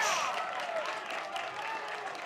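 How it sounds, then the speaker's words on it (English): Fans in the stands at a high school baseball game give a scattered round of applause, fairly faint and distant, fading slightly over a couple of seconds. "he gets a round of applause from the fans here in the stands"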